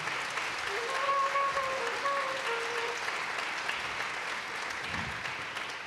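An audience at a music event applauds warmly, a steady, fairly soft blanket of clapping lasting several seconds, with a brief whistle-like tone rising through it early on.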